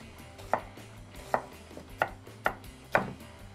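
A knife chops through half an onion on a cutting board for goulash, five distinct, evenly spaced thuds about half a second apart, close and clear with no talking.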